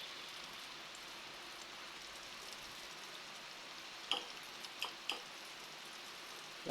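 Ground meat torta frying in yellowish chicken-inasal oil, giving a faint, steady sizzle with a few sharp pops and spatters near the end, with no talk over it.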